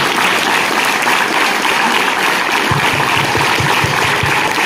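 Audience applause at a school event in a government high school, a steady broadband clapping that fills the whole stretch, loud and continuous, with some lower thumps near the end.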